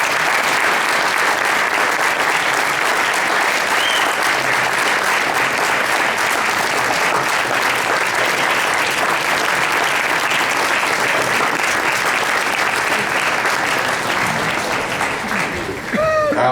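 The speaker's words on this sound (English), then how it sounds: "I wish you all would just please give her a round of applause." Sustained audience applause at a Southern Nevada public forum, a steady wash of many hands clapping, fairly close and even throughout, tapering slightly at the very end.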